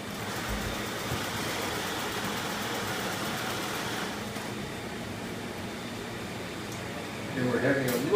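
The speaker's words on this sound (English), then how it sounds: "a report being run here on our new printer" IBM 1401 computer printer running off a report, a continuous dense mechanical whir and chatter filling the room, with a few louder clacks near the end.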